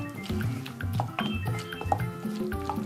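Water is poured into Bisto gravy in a pan while cooking a spring roll filling, giving close, bubbly gurgles and splashes with a few light clinks in an irregular rhythm.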